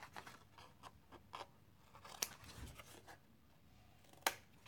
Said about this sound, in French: Je viens bien sûr couper les angles.